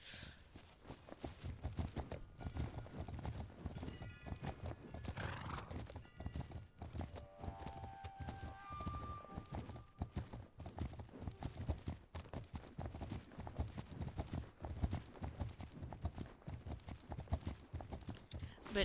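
Horses in the video game Legend of Khiimori clip-clop steadily at a walk, with an occasional neigh or whinny, over a continuous layer of game music and ambience.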